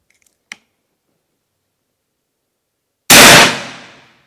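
A single loud, sharp PCP air rifle shot from a Bocap Predator 500cc, standing alone after a long silence and trailing off quickly, with a faint click earlier.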